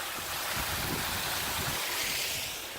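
A small waterfall beside a road on the Cape Wrath Trail gives a steady, soft rushing of falling water, heard fairly faint and even throughout with no other sounds.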